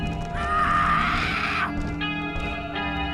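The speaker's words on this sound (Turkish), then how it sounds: "Ha hala bağırıyor." The neighbor character in the video game Hello Neighbor lets out a loud, sustained scream lasting over a second, followed by shorter, quieter vocal bursts against a steady game soundscape.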